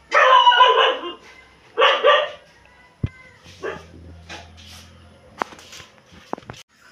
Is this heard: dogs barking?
yes